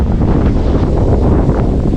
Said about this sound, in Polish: Wieje tak, że aż się klapa od tej tojki sama otwiera.